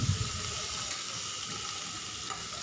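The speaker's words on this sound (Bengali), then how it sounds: "তো দেখো পেঁয়াজগুলো আমি খুব ভালো লাল লাল করে ভেজে নিচ্ছি" Ground onion paste fries in a pan for a katla fish rezala, giving a steady, close sizzling hiss with faint stirring noise throughout and no voices.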